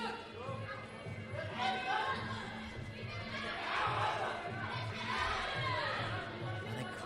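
A crowd at a Muay Thai bout reacts with a swelling roar of cheers and shouts, heard beneath continuous commentary.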